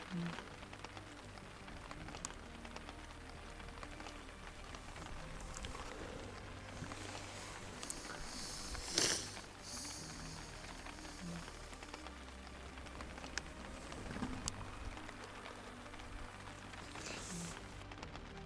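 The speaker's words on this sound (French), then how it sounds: "Deuxième levée, il pleut." Rain falls steadily at a riverside base camp on the banks of the Lena, a soft, even patter on surfaces that continues throughout, with a few louder splashes and bumps standing out now and then.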